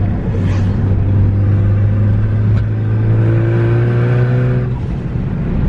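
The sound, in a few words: Ford Focus ST hybrid turbo intake while driving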